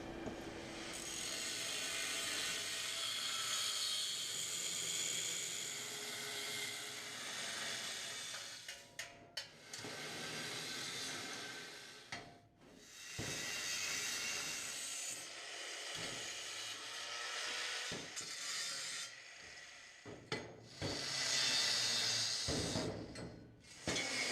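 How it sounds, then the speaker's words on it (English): A grinder cuts off mounts and grinds down welds on the lower chassis of a Sport Quattro replica car, giving a long, loud, harsh abrasive roar. It stops briefly a few times and then starts again. "I got to cut all the mounts off, grind down the welds"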